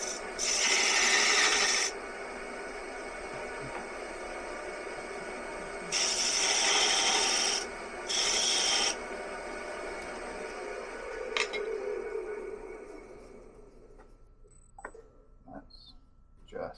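Fumed birch being sanded on a wood lathe, bursts of loud abrasive rasping that start and stop several times, then quieter scraping and a few light knocks as the spinning workpiece winds down.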